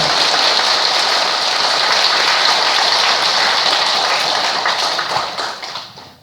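Temple congregation applauding the choir, conductor and accompanist at a Buddhist service, a loud, dense, even hiss of clapping that carries steadily and tapers off near the close.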